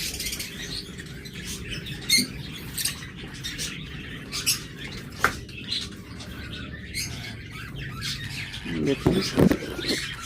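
Budgerigars of many mutations kept in pairs with eggs and chicks at a bird seller's, giving scattered chirps and squawks over a low background hum, with someone talking throughout.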